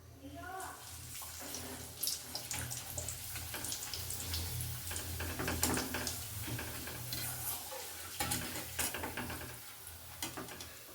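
Papad (happala) frying in oil in a pan gives a soft, continuous sizzle and bubbling with occasional crackles and light clatter, heard close and fairly quiet while a voice talks intermittently.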